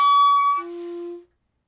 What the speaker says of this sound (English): I got the squeak, and then I got not much of anything